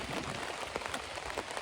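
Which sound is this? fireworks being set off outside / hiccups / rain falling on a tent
rain falling on a tent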